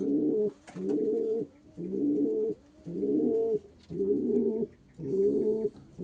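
Pigeons coo up close in six regular, drawn-out phrases, each a throaty, rolling call separated by short pauses.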